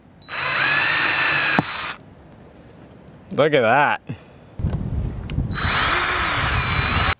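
Power drill boring a hole with a Harbor Freight drill bit during a ductless mini-split install in a garage, two loud sustained whining runs with a brief warbling burst between them and a short spoken remark.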